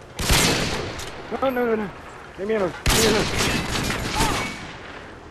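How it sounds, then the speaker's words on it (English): Bursts of automatic gunfire from the shooter game Modern Warfare 2, loud rattling volleys at the start and again midway, with someone talking briefly between and over the shots. "I was just shooting so you wouldn't go around the corner"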